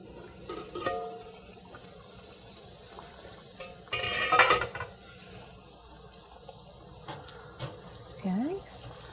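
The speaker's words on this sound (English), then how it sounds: "we're going to finish filling the rest of these jars" Peach chili salsa is ladled into glass canning jars, with scattered clinks of glass and utensils, a brief bright clatter in the middle and soft scraping, fairly faint against a quiet kitchen background.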